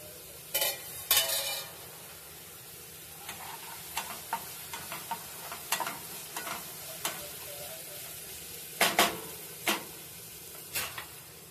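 Garlic and ginger fry in a pan for veg noodles, a steady soft sizzle running throughout while a utensil stirs and scrapes with sharp clinks at irregular intervals, close by and with no talking.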